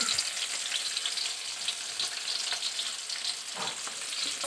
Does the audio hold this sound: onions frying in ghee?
yes